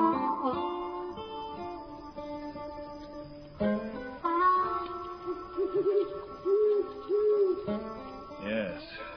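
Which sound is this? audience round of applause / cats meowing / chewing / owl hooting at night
owl hooting at night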